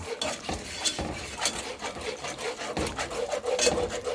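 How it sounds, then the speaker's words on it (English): A spoon scrapes and rubs steadily around a pot of darkening gumbo roux for a turkey sausage gumbo, making repeated rhythmic scraping strokes, close and moderately loud, with no voices. "This one I'm stirring now."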